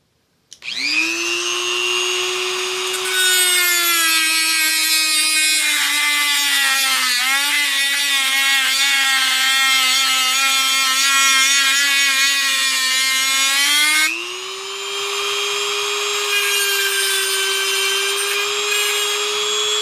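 A rotary tool with an abrasive cutting wheel cuts into a die-cast Hot Wheels Bugatti car, a loud, close high-pitched whine that starts abruptly, bogs and shifts pitch under load, then rises as it frees up.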